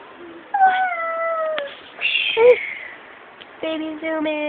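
A kitten meows several times near a baby, its short tonal cries coming in bursts with pauses between, close and clear, while a person talks softly in the background.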